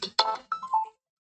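A short phone ringtone plays a few bright melodic tones in a quick burst, then stops after about a second, with no talking over it.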